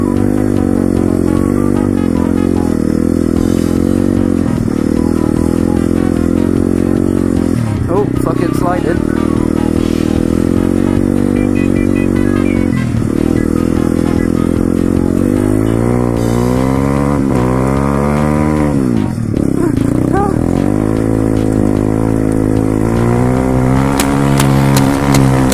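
Motorcycle engine at full throttle, loud and close, its pitch climbing through gears in repeated rising sweeps with brief dips at shifts, and a rider shouting over it.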